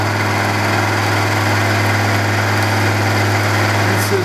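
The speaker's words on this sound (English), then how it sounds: "1000 RPM, and this is a 5/8 diameter end mill." A milling machine spindle turns a 5/8-inch end mill at 1000 RPM, giving a loud, steady mechanical hum with a constant drone and no change for the whole stretch.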